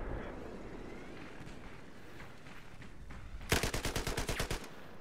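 Rapid machine-gun fire in the Battlefield 4 video game: a loud burst of about a dozen evenly spaced shots near the end, after quieter background battle noise, with faint talk.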